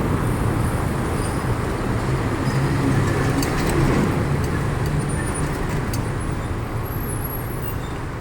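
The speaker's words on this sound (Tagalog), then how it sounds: "Napakalalaki ng sasakyan pag ganitong madaling araw." Large vehicles pass on a road at dawn, a steady, loud roar of traffic with a continuous low rumble and no pauses, and no voices.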